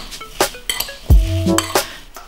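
Rhubarb pieces tossed with sugar in a bowl, with a spoon clinking and knocking against the dish in a few close, irregular strikes and a short ringing tap, no voices.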